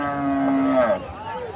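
A buffalo at a busy livestock market lows once, a close, drawn-out moo that rises and bends in pitch, with faint crowd murmur behind it.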